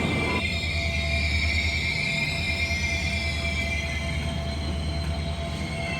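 A train pulls into Santragachi railway station near Kolkata with a continuous heavy rumble of rolling wheels and a faint high metallic whine, loud and steady throughout with no voices.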